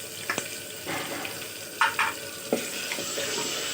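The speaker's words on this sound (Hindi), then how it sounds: "अभी हम इसे दोनों को अच्छी तरीके से भून लेंगे" Chopped tomatoes with ginger and garlic fry in a hot pan for a mutton and potato curry, a steady sizzle broken by a few close spatula scrapes and knocks, with no talking.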